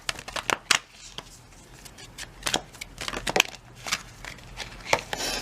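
Astrology cards are shuffled for a reading in a series of sharp, irregular riffling bursts and snaps, close and fairly loud, with quiet gaps between them and no talking.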